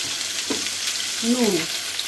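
Garlic, ginger, onion and spice masala frying in a pan with a dense, loud continuous sizzle, with faint stirring sounds and brief low voice-like tones mixed in.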